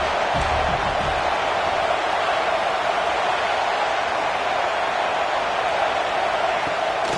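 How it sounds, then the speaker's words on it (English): Stadium crowd roar in the College Football 26 video game on a third-down defensive stand, a dense, steady wall of cheering noise that stays loud throughout with no break. "Decibels rising as the crowd gets behind this defense on 3rd down."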